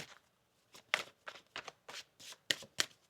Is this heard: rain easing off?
no